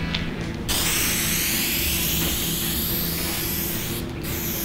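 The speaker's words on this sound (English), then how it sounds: "do some test spray on this M3 seat" Spray paint test-sprayed onto a BMW M3 seat, a loud, close, continuous hiss with a brief break near the start and another near the end.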